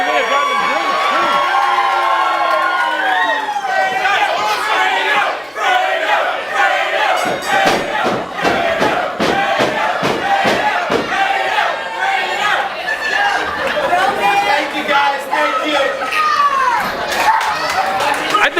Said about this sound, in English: I think Dave Davis's cheering section's in the back